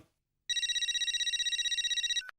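A telephone bell rings in one continuous rapid trill for nearly two seconds, clear and fairly loud, then cuts off abruptly.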